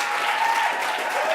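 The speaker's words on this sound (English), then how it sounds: "Give her a big round of applause." Sustained applause from a keynote audience at a startup week event, steady and dense throughout, filling the room without pause.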